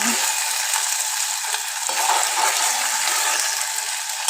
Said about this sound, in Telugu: నేను ఫ్రై చేస్తున్నాను